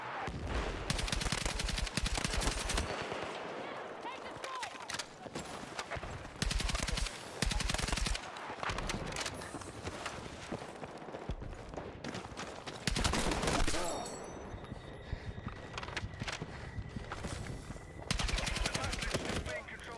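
Rapid machine gun bursts in the shooter game Battlefield 6, loud and close, firing in long runs broken by short pauses, with other game effects and a faint voice underneath.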